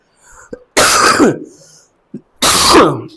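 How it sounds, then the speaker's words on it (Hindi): Two loud, harsh coughing bursts close up, each a raspy throaty hack, separated by a short quiet pause with a faint click. "भाई खांसी ने तो"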